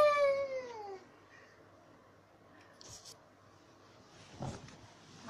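A Siamese cat gives one clear, drawn-out meow near the start, close and fairly loud, followed by quiet rustling and faint room sounds.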